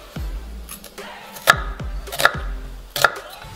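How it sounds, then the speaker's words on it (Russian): Steady knife chopping as onion is diced on a wooden board, three or four sharp strikes about a second apart with thuds between, close by and alone. "Нарезаем кубиком"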